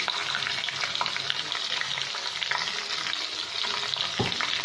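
Cluster beans fry in a pan with a steady, dense sizzle that runs unbroken throughout, loud and close, with faint stirring scrapes and no voices.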